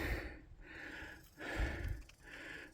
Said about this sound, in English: Got this old man breathing hard.